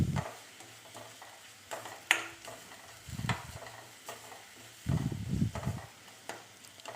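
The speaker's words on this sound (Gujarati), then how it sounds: "હવે ડુંગળી ચડે ત્યાં સુધી એને હલાવતા રહીશું." Chopped green onions frying in ghee, stirred in a pan for a Gujarati green onion kadhi, with intermittent scraping stirs and soft sizzling in bursts, moderately close and fairly quiet, no voices.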